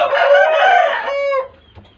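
Chickens cluck and squawk loudly and close by in a short, dense burst of overlapping calls that tapers off quickly.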